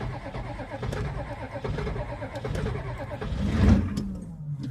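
A 7.3 IDI diesel truck engine turns over and catches, settling into a steady low rumble that swells briefly near the end, fairly close and continuous.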